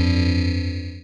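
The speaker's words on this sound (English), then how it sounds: "I'll be running my harp through the Meris Ottobit for bit crushing and stutter sounds." Harp played through a Meris Ottobit bit crusher and stutter pedal, a brief buzzy, gritty, heavily processed sustained tone with a faint rhythmic wobble that fades out quickly, heard alone.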